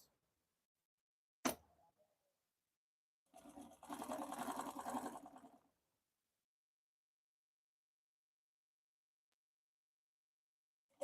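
A sewing machine runs a stitch on an asooke bow headband in a short burst of about two seconds, a close, steady whirring hum between a sharp click before it and silence after.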